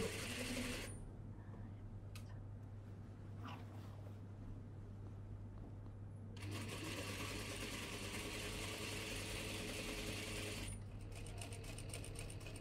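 A sewing machine stitches a dress seam in steady, continuous runs with short pauses between them. It sounds close and mechanical over a constant low hum.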